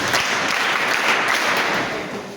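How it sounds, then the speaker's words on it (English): A church congregation clapping during a sermon: a dense, loud burst of many hands clapping together, continuous for a couple of seconds before easing off slightly. "Clap for yourself."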